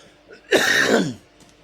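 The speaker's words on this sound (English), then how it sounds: "me having to clear my throat" One short, raspy throat clearing from a man, close and fairly loud, lasting under a second against a quiet background.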